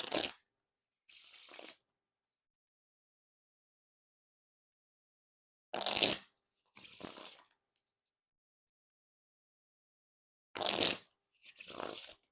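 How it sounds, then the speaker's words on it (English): Three pairs of short, crisp riffle shuffles of a Bicycle Fashion deck in brown, each burst a quick papery flutter, separated by long silent pauses, close and fairly quiet. "Now time for the riffle shuffle or bridge shuffle"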